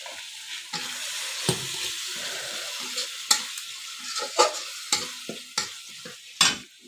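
Spice masala for Bengali shrimp malaikari sautéed with salt and turmeric in a pan, a steady close sizzle broken by repeated scraping stir strokes throughout.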